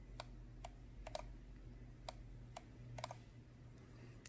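Razer Mamba Elite mouse scroll wheel clicked repeatedly into its first and second stage, producing about nine faint sharp clicks, some in quick pairs, over low steady hum.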